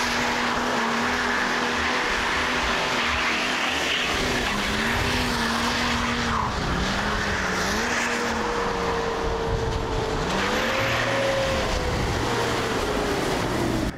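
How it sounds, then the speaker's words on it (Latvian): A BMW car engine screams at high revs, pitch rising and falling through gear changes, with tire squeal and wind roar throughout. "Mašīna taisa skaņas, ar kurām es neesmu pazīstams"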